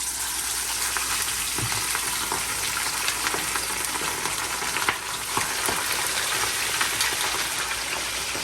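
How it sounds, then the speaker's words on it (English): Fish for Jamaican escovitch fries in hot oil, giving a dense, continuous crackling sizzle close up with occasional pops, no speech. "Now I'm gonna go ahead and start to fry the fish then."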